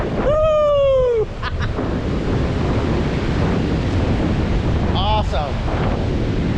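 Pacific Ocean waves and wind: constant loud wind buffeting with surf roaring underneath throughout, a brief whooping voice at the start and another faint call near the end.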